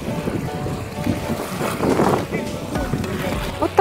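Sea at a hotel beach, with wind buffeting the microphone over a continuous wash of surf, while a voice speaks partway through.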